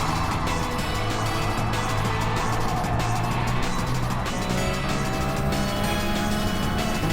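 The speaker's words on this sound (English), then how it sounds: "Asher gets a little nudging on the Countach, but ultimately is not able to keep pace." A Lamborghini Countach races in a video game, its engine a steady, continuous drone that holds level throughout with no pause and no speech over it.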